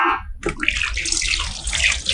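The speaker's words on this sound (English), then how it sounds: "Always wash your vegetables very well." Green onion, green pepper and carrot are rinsed under a running tap, water splashing and pattering close by after a brief quiet start, with no talking.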